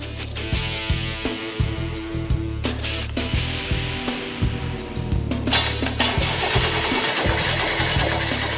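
A Jeep CJ8 Scrambler engine cranks over on the starter during a compression test, a steady rhythmic churning pulse that runs without a break, close and fairly loud, with no talking.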